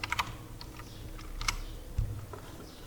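Keys clatter on a computer keyboard in a short burst of close, crisp typing, a few clustered strokes followed by scattered taps, with no talking.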